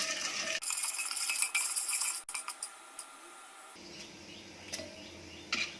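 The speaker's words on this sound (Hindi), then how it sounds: "कॉर्न्स फूटना शुरू हो गए हैं।" Corn kernels bursting inside a pressure cooker over a gas flame, a run of sharp, scattered pops and ticks, busy at first and then sparser, heard up close with no one talking.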